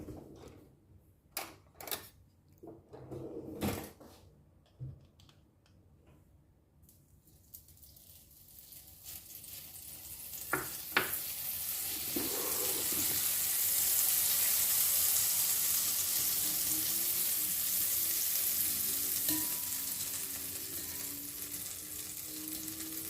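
Butter sizzling in a heated pan over medium heat, a steady rising hiss that swells and holds after a few clinks and knocks of cookware at the start.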